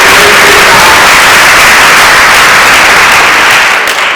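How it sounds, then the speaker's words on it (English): A large audience claps after workshops at an Associated Black Charities event, producing loud, dense and continuous applause that barely eases near the end, with no voices rising above it. "let's give everyone a round of applause"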